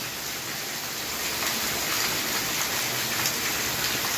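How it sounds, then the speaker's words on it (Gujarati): Heavy monsoon rain pouring in Junagadh, Gujarat, a dense, loud, continuous roar of water hitting surfaces with no pauses and no talking. "આ જોઈ લ્યો વરસાદ।"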